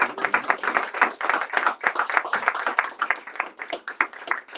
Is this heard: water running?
no